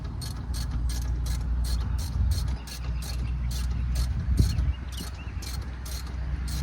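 A ratchet clicks in quick regular bursts while tightening bolts on the alternator of a 2009 Chrysler Town and Country, close and crisp, with pauses between runs and no talking.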